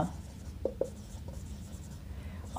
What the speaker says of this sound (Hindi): तो हम लिखेंगे मनीषा